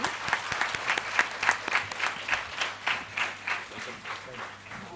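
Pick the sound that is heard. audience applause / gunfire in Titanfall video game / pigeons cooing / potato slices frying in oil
audience applause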